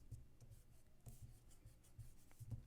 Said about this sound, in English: I'm going to erase the belly line there